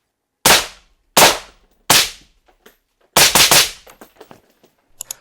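Several sharp suppressed gunshots from a rifle fitted with an Acheron true suppressor: three evenly spaced cracks, then a quick burst of three more, each followed by a short fading tail, with faint clicks and rattles between.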